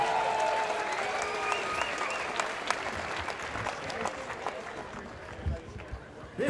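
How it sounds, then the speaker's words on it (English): Crowd at a ladies' night MMA event applauding the fight sponsors, a moderate wash of clapping that tapers off, with an announcer's voice over it. "Give those two sponsors a round of applause for me"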